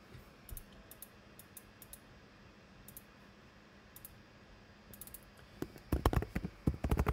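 Computer keyboard keys and mouse clicks come while working in Fusion 360: scattered light taps, then a denser burst of louder clicking near the end, close and without speech.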